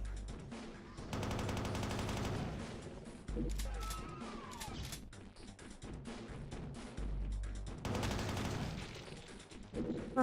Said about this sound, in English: Reminds me of Metal Slug with the DooM machine guns.